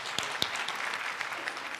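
Applause at a merit awards ceremony, a steady wash of clapping from a seated audience with a couple of sharper individual claps standing out, moderately loud throughout.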